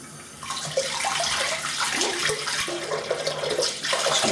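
Tap water runs steadily into a sink while a razor with a feather blade is rinsed during a wet shave, a continuous close splashing hiss with small clinks and shifts in the flow.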